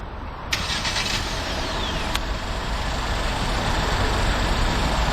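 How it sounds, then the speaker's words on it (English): A 2012 Ford Explorer Limited with the EcoBoost engine cranks briefly and catches, then settles into a steady, fairly loud idle that runs on evenly with no talking. "let's go ahead and start the engine, and we'll let it run for a while"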